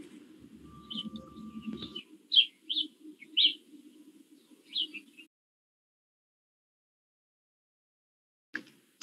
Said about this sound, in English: thank you for the chimes and the birds chirping